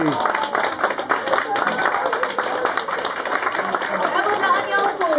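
Applause for the angels at a kindergarten nativity play, a steady wash of small hands clapping fills the room throughout, with adult voices talking over it.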